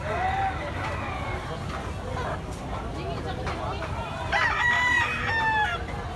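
Several chickens and roosters, including Talisayon and red gamefowl, crowing and clucking nearby, overlapping with people talking in the background; a louder crow rises near the end.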